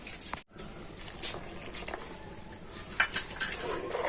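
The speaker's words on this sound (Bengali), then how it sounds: "তো কাস্টার্ড পাউডার মেশানো দুধটা দিয়ে তো কন্টিনিউ কিন্তু এইভাবে একটু নাড়াচাড়া করে নিতে হবে" A spoon stirs milk mixed with custard powder in a pot, faint liquid swishing punctuated by a few light metallic clinks against the pot near the end.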